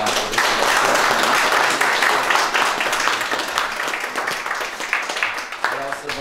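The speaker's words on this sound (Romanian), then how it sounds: "Încă o dată aplaudăm din partea noastră." Audience clapping at a local award ceremony honouring notable townspeople in Dărmănești, a dense sustained round of applause that is loud at first and gradually thins and softens.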